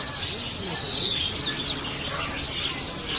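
Many small birds chirp and twitter together in a busy, continuous chorus, with murmuring voices of people mixed in the background.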